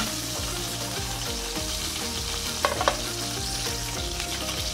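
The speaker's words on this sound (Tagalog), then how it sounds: "Tapos, siyempre, gisa ko rin siya." Meatball ingredients sauté in a frying pan with a steady, continuous sizzle and occasional brief stirring scrapes, close and even throughout.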